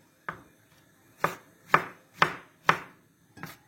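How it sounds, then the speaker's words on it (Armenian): A knife chops through eggplant on a cutting board in six sharp, separate cuts, spaced about half a second apart, close and clear against a quiet background. "կտրատելու եմ այս բադրջանը այսպես"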